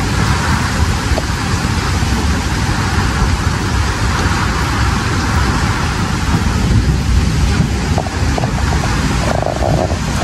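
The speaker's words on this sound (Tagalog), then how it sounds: "Ang lakas ng hangin" Strong typhoon wind and heavy rain lashing a Quezon Province neighborhood, a loud, continuous dense roar with no break for the whole stretch.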